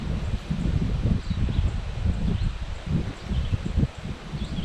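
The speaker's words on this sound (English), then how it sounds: "First thing this morning it started blowing." Wind blows steadily across a lake campground, a low rumbling gust noise with rustling, continuous and fairly loud, with faint birds in the background.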